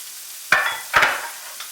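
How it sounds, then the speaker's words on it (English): Onions sautéing in a skillet for Mexican-style corn flare up in two short, loud bursts of sizzle as they are stirred, each fading quickly. "Get that to saute just a little"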